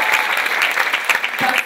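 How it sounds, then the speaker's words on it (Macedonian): An audience applauds a performer named Biljana Ginova at a comedy show, a dense burst of clapping from a crowd, loud and close throughout. "Ште еден аплауз за Билјана Гинова"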